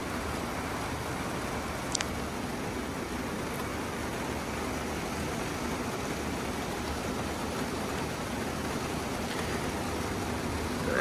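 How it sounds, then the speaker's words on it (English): Heavy rain pouring outside a greenhouse at an orchid nursery, heard from indoors as a steady, even broadband hiss that holds for the whole stretch, moderately loud and with no talk. "Now you might hear some noise in the background. That is because it is pouring outside."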